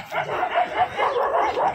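Dogs bark and yip in quick, repeated bursts at moderate distance, a short lively run of barking with little else around.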